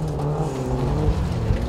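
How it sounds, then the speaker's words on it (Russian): Powerful autocross race cars with unrestricted engines run on a track, producing a loud, sustained engine roar with low droning tones and slight revving swells and no talk. "На трассу выезжают мощнейшие болиды с нелимитированными моторами, которые разгоняются до сотни за считанные мгновения и буквально летают по дороге"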